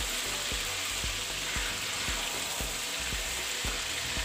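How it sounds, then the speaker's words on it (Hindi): Fish fries in hot oil in a karahi with a dense, constant sizzle, punctuated by regular soft thuds roughly every half second as the pieces are stirred or turned. "इन्हें अच्छी तरह फ्राई करेंगे"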